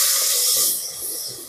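Yogurt lassi hits a hot pan and erupts into a loud, close, steady hiss of sizzling that eases slightly after a moment, with no talking.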